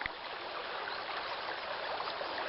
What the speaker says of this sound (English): I can squeeze it out into a bottle